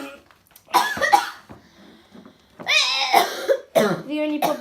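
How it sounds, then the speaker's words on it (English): Someone coughs several times in short bursts while making slime with an air freshener product, the coughs close and loud with brief quiet gaps, and someone talks between them. "The only problem about this product is it's air freshener, so it's gonna make you cough a little bit."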